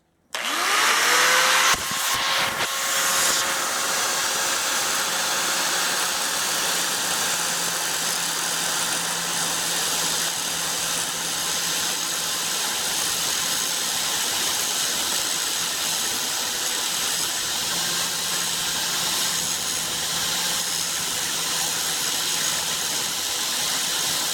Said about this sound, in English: Two-handed grinder.